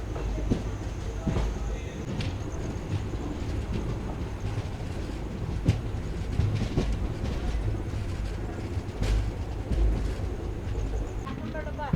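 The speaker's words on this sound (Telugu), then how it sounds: "బండి అయితే ఇప్పుడు మన పెనాల్టీ బెల్ హాల్ట్ అయిన ఖానాపూర్ స్టేషన్ నుంచి అయితే డిపార్ట్ అవుతుందండి" The Vishwamanava Express pulls out of Khanapur station, a small halt. Its low rolling rumble is joined by occasional clanks and a faint rhythmic clatter of wheels, steady and moderately close, with some background noise.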